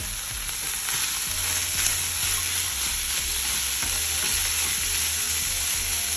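Frozen vegetables frying with chicken curry in a pan, a steady bright sizzle with repeated stirring clicks and scrapes throughout, close and continuous with no talk.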